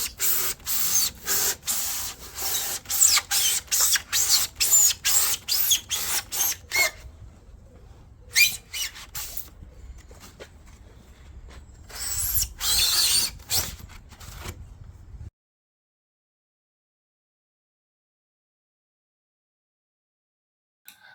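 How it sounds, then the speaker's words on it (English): A carbon knife saws through spray foam in quick, rhythmic squeaky strokes, pausing, then another burst of cutting before it falls silent. "it's out with the carbon knife and let's make the first squeaky cut"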